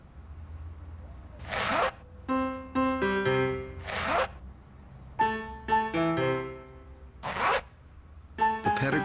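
A Pedigree Slide Right zipper bag of dog food is zipped several times, three long rasping pulls separated by bright musical jingle notes, close and clear with no talking.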